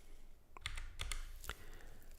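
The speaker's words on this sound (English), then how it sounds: "So let's start by typing in the first 2 backslashes." Keys clack on a computer keyboard as backslashes are typed, a handful of quick, faint clicks in an uneven cluster, close and quiet, with no voice.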